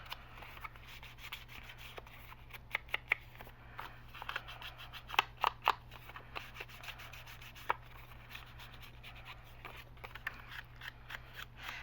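Paper edges being inked for a Christmas-themed craft traveler's notebook, with quiet scraping, rubbing strokes and sharp little taps over a low steady hum, close and fairly faint.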